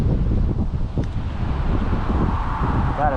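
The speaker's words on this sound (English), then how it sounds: "Never fun having to fight the wind." Wind blusters steadily across the microphone beside a roadside creek, a constant rough rumble with no pauses and no talking.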